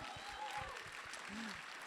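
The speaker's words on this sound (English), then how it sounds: "we can clap for them" A conference audience at Devcon SEA applauds the Ethereum Protocol Fellowship, a soft, distant wash of crowd clapping lasting under two seconds, with a voice faintly audible beneath it.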